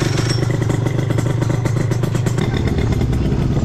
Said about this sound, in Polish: Ładny wydech